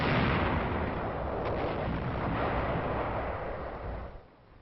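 A 2nd Armored Division tank cannon in World War II fires a single muffled, booming blast that rumbles on steadily before fading out at the end.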